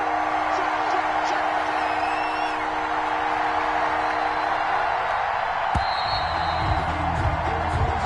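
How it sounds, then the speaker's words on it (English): Crowd in an NFL football video game, a stadium roaring as a steady, dense wash of cheering and whooping that fills the whole stretch, with a play-by-play voice talking over it. "this crowd's going to get even louder"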